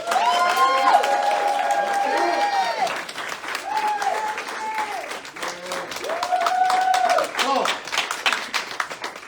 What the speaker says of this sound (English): let's give the class of 2021 a round of applause